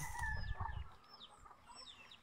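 Chickens cluck in a rural yard, with a short burst of close clucking at the start followed by fainter, scattered calls and chirps against low outdoor background noise.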